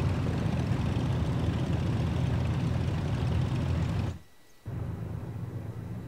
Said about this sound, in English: let's get back to the pilot seat and take the plane